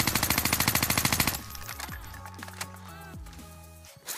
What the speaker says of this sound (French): Il me semble que c'est la nouvelle arme ça. La Vargo.